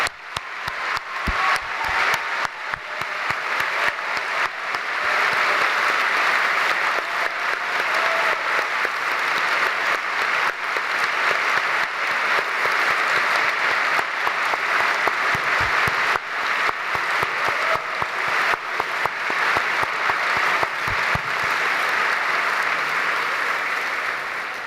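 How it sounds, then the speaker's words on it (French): Sustained applause from a seated audience at a graduation ceremony for new doctors, continuous, even clapping lasting well over twenty seconds, moderately loud throughout. "Je propose qu'on vous applaudisse une nouvelle fois pour le travail."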